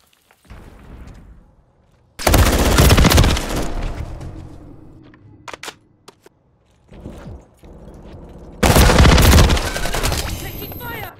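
Call of Duty headquarters match gunfire: loud automatic bursts crack out in two long volleys with scattered single shots and thuds between them, near and harsh, with brief game voice callouts in the pauses.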